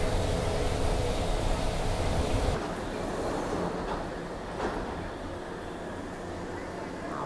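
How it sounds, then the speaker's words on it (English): A Mexico City Metro yellow line train rolls along with a steady, broad rumble and hiss, loud at first and then dropping to a lower, quieter roar as the ride continues. "Now this is our last train, the yellow line from Station Oceania to Station Terminal Aerea."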